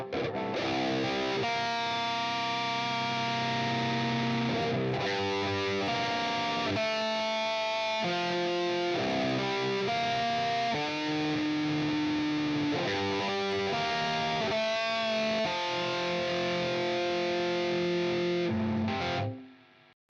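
A thick, heavily distorted electric guitar riff through a Helix HX Stomp plays loud and continuous with sustained chords and chugging notes, cutting off abruptly at the end.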